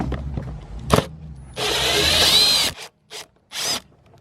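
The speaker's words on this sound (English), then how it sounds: "there's just about 4 or 5 Phillips screws we gotta remove" A power tool whirs with a ratcheting rattle as Phillips screws come out of the plastic trim on a wrecked Ski-Doo MXZ 800 snowmobile. A steady run of driving is followed by a few short bursts and clicks, close by.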